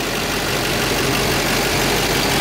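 A 6.6 liter LMM Duramax turbo diesel V8 in a 2009 Chevrolet Silverado 3500HD idles close up, a loud, steady low clatter and drone with no talking.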